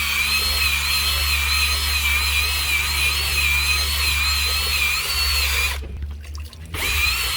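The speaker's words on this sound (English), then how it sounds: "The drill brushes are just amazing for this." A drill-driven scrub brush whirs against the faded, sun-damaged paint of a garage door in a steady, close, high-pitched whine. It drops out briefly near the end, then starts again.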